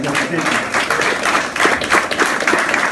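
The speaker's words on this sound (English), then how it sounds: "So let's give them a round of applause." Loud, dense applause from an audience at a talk, honoring a drill team; busy continuous clapping fills the short stretch without a clear break.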